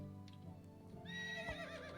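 A horse whinnies in the Medieval Dynasty game, a rising, wavering neigh that swells midway and then trails off, preceded by a few soft hoof clops, heard alone at moderate volume.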